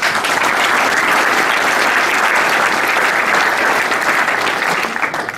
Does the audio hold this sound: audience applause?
yes